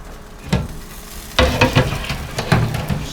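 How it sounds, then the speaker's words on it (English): A rotisserie chicken turns in a Ronco Showtime countertop oven, fat hissing and popping in short bursts that grow denser after a brief pause, close by with no talking. "Sizzle, sizzle, sizzle."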